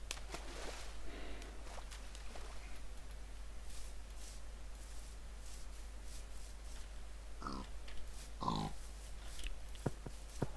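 Pigs in Minecraft give repeated grunting oinks over a steady low hum, scattered through the stretch at moderate volume with a few short snorts near the end.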